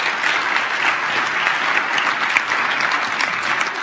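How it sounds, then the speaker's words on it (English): Congregation at a church Sunday service applauding, a dense, loud, steady wash of many hands clapping throughout with no pauses, close and full. "Go ahead and give them a round of applause."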